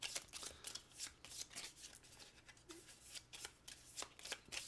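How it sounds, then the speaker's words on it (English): Quiet, rapid riffling of Everdell board game cards, a string of soft, papery bursts as the winter cards are shuffled close up with no talking. "We are going to shuffle the remaining winter cards together."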